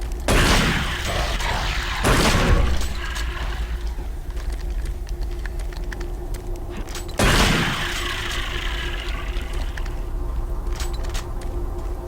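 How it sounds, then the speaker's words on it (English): Weapon reload in the video game Doom 3: loud metallic clunks and mechanical clicks in a few distinct bursts, with lighter rattling between them. "Oh, that reload."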